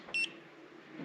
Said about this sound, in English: So you heard the beep of the altimeter